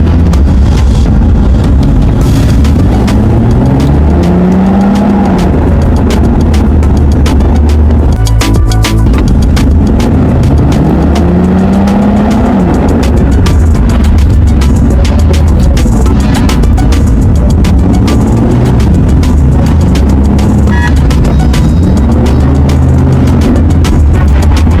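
A WagonR car racing at high speed through tight gaps in traffic: loud, continuous engine and road roar with repeated rising and falling sweeps as it accelerates and passes.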